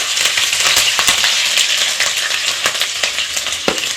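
Cumin, cinnamon and cut green chillies frying in hot oil with a steady, loud broadband sizzle and crackle, broken by a few sharp pops and stirring clinks close by.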